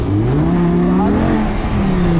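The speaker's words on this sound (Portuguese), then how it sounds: "Vou acelerar, tá, nego?" Audi R8 convertible sports car accelerating hard, a loud, close engine roar with rising pitch as it revs up continuously, no talking.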